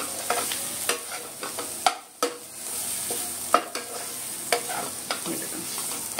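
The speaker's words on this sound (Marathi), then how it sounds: "लाल तिखट आणि इतर मसाले सगळे ॲड करूया. आणि ह्याला पुन्हा चांगलं परतूया." Dried fish is stir-fried with red chili powder and spices, a steady sizzle broken by repeated sharp scrapes and clacks of a spatula against the pan.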